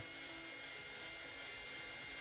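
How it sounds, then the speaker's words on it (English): A drill bit slowly bores out a grade 5 bolt, giving a steady, faint, continuous grinding whir with no break. "we're drilling out a grade 5 bolt"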